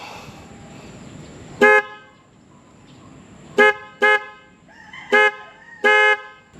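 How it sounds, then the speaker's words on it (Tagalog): Loud horn blasts from a new Hella horn on a CFMOTO 450CL-C motorcycle honk five times in short bursts, two close together, with a quiet background between them. "tapos ito nakakabit na dito yung horn natin. Sound check tayo para marinig nyo."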